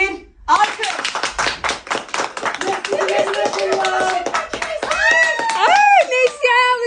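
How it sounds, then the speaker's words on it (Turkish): Hands clap in a fast, close rhythm in a home setting as children and adults talk and laugh over them, the clapping growing busier toward the end. "3 2 1 Alkış!"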